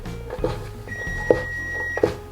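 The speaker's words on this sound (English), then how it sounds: "Timer is off." A kitchen timer beeps while pasta is being made: a few short, evenly spaced electronic tones, moderately close, over a low steady hum.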